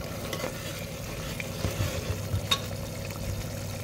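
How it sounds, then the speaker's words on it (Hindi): Spices roasting in a pan for a green chana curry, a steady moderate sizzle with occasional scraping stirs throughout. "अच्छे से भुनाई करेंगे हमारे मसालों की"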